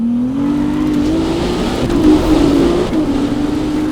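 A high-performance car accelerating hard under a loud droning engine whose pitch climbs steadily, broken by abrupt gear shifts that briefly drop the tone before it rises again, heard close.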